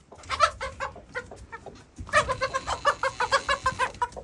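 Broody hens clucking close by, a rapid series of throaty, rhythmic clucks and grumbles that pause briefly, then resume louder and faster.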